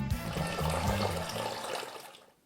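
Water gushing from a tap into a vessel, a full splashing pour with a gurgling low rumble that fades away at the end, no voices.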